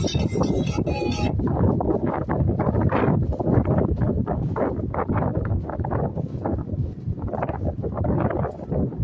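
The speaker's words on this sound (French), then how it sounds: "Il y a un bon vent ici au balcon." Steady wind blowing across an open balcony, a continuous broadband rush with gusts and microphone buffeting throughout, with no speech.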